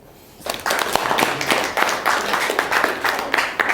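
An audience bursts into applause after a brief quiet moment, a dense crowd of hands clapping steadily for about three seconds at moderate loudness.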